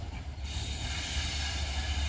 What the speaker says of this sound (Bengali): আজকে আপনাদেরকে দেখাবো তিনটা ট্রেনের ক্রসিং